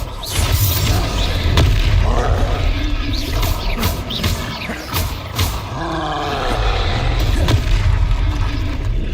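Confringo blast spells in the Hogwarts Legacy video game, heavy booming explosions and roaring impacts repeating through dense combat noise, with brief voices mixed in.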